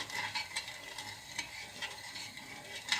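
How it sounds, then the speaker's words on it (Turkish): Sugar syrup stirred in a pot on the stove, a spoon scraping and clinking against the pot in a steady repeated rhythm over a soft sizzle, close and moderately quiet. "Bakın kaynayasıya kadar karıştırıyoruz"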